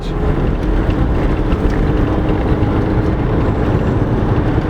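A remapped 2.2 diesel car with 113,000 miles drives along with a loud, steady low rumble and road and wind roar filling the interior, without a break.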